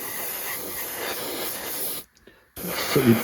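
An airbrush hisses steadily as it sprays acrylic paint onto a model Spitfire, cuts off briefly for a moment, then resumes with the same close, airy spray.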